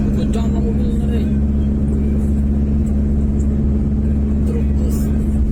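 A car speeds along the elevated toll road in Makassar, heard from inside as a steady, loud, low engine and road rumble with no pauses, while voices speak over it now and then.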